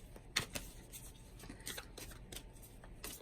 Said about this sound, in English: I am shuffling the Denise Linn Sacred Traveler Oracle cards